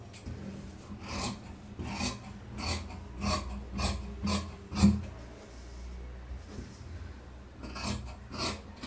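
Scissors snip through blouse fabric in a run of rhythmic, rasping cuts, about one each half second, close and moderately loud, with a short pause before a few final snips and no talking.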